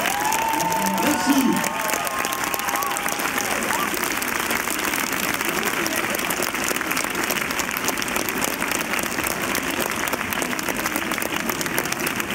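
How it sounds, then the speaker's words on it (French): Loud, sustained applause and cheering from a cinema audience at a film premiere, dense clapping filling the whole span with whoops early on and a brief spoken thanks near the start. "Merci, on applaudit très fort."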